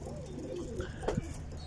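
Pigeons and their black chicks coo softly up close, with a couple of low throaty calls rising over a steady background hiss.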